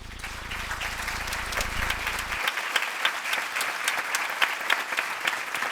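A crowd applauds at a Medal of Honor ceremony in the East Room of the White House, with dense, sustained clapping that continues as a low rumble cuts out midway.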